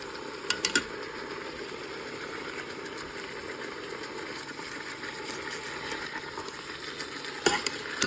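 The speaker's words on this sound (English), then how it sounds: "Just want to get a good sear on that." Food searing in a hot pan, a constant moderate sizzle with a low steady hum underneath and a few sharp clatters near the start and end, no voices.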